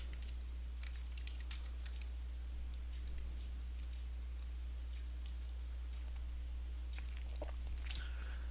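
Light, scattered clicks of typing on a computer keyboard in a MATLAB session, sparse keystrokes over a steady low hum, with no talking.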